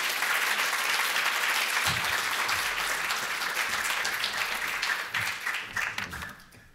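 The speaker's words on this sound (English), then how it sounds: "And so I would welcome Kevin, give him a big round of applause" An audience at a talk on radical librarianship and DIY culture gives a speaker a round of applause, dense steady clapping that fades out over the last couple of seconds.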